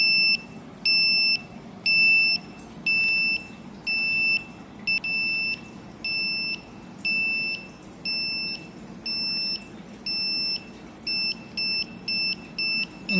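The water level indicator on a battery water distillation machine beeps in a regular series of high, piercing tones, each lasting about half a second. The beeps come a little quicker toward the end, over a low background hum.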